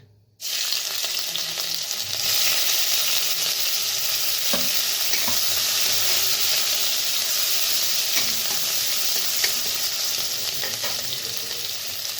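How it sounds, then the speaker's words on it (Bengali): Steady, loud sizzling of onion frying in hot oil begins abruptly and continues unbroken, with occasional soft stirring scrapes close by. "তেলটা গরম হয়ে গেছে, তো দিয়ে দিব পেঁয়াজ।"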